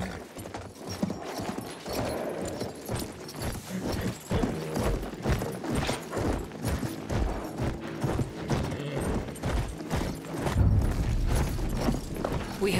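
A cavalry horse gallops across a Battlefield 1 battlefield, with steady rhythmic hoofbeats close and clear over low background battle rumble.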